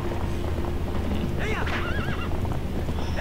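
A horse neighs and gallops with clip-clopping hooves in the video game Zelda: Twilight Princess, a bright whinny rising over dense game sound while people talk over it.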